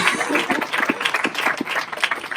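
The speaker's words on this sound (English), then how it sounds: "Yeah, you can clap for that." Audience at a community center reopening clapping briefly, a dense patter of many hands at moderate distance lasting a couple of seconds.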